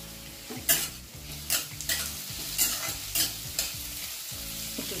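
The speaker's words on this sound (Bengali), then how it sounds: "একটু ঢাকা দিয়ে ভেজে নিই।" Food fries in a pan, salted and partly covered, with a steady sizzle close by and about five sharp scraping stirs at regular intervals.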